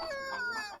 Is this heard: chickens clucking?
yes